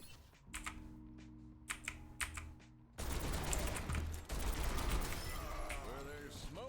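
Cassidy fans the hammer in Overwatch, a rapid burst of gunfire erupting after a few quick clicks and keyboard taps, then continuing in dense rattling volleys with someone talking faintly underneath.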